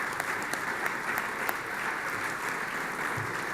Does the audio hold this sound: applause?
yes